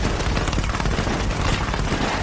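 A dense, continuous volley of gunfire in an audio drama, several guns shooting at the Boll Weevil at once, loud and sustained with rumbling booms and no talking.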